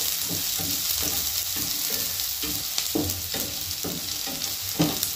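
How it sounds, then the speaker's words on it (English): Onions frying in a pan for fried rice, a soft continuous sizzle broken by periodic stirring scrapes, close and moderately loud, with no voices. "I'm going to fry them."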